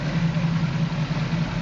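A 1968 Camaro RS with a 454 engine idles steadily, a loud, even low rumble with a constant throb and no revving, running alone without voices.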